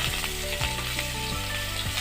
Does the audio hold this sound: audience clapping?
no